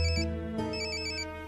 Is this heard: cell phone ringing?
yes